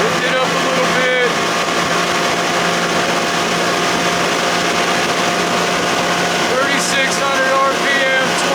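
A 60 hp Johnson outboard motor drones steadily at speed on a boat, a constant loud engine tone running the whole time with faint pitch shifts near the end.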